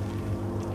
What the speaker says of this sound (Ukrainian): Катер на повітряній подушці Марс-700.